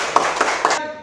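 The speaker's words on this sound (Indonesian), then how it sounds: "Berikan tepuk tangan dulu." A classroom of students clapping in a lesson, three quick rhythmic bursts of hand claps, close and fairly loud, cutting off abruptly at the end.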